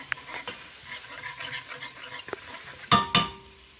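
Blue crab bisque ingredients with crushed red pepper cooking down in a pot give a soft, steady sizzle with light stirring scrapes and a pair of sharper metallic clinks near the end.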